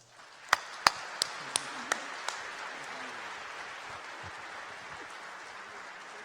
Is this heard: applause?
yes